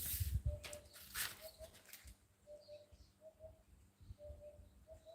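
Birds call and chirp outdoors, with soft repeated cooing and short tweets at moderate distance, after a few louder rustling knocks at the start.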